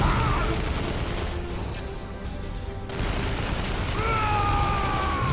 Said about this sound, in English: I enjoy those cyclone missiles a little too much. and you try to make fun of me for loving explosions.